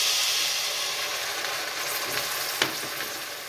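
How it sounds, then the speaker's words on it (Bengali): Spices with sliced green chillies and a splash of water fry in a pan for a prawn and Malabar spinach curry, giving a steady, soft sizzle and hiss with light stirring scrapes and no voices. "দিয়ে মশলাটাকে ভালোভাবে কষিয়ে নেব"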